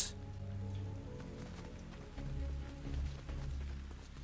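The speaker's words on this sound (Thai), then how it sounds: "ทำไมห้องนี้ฝนตก" Rain falls inside a room in Fortnite as a quiet, steady patter of drops, soft and continuous throughout.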